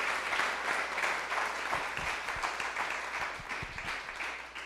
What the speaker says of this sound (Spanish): Para un fuerte aplauso al Señor.